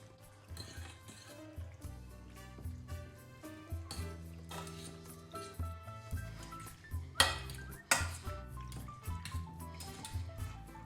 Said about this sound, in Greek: Ανακατεύω.